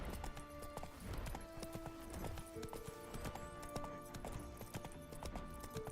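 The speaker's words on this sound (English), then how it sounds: "I'm having a lot of trouble controlling the horse right now" Geralt's horse Roach gallops in The Witcher 3, with rapid, rhythmic hoofbeats that carry on throughout alongside the game's music and ambience, and a faint snort or whinny also comes through.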